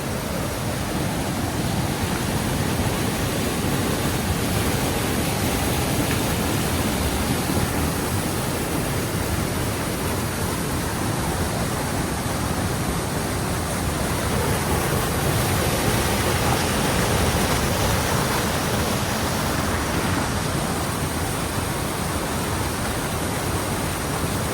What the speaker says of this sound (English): we're at the top of this waterfall right here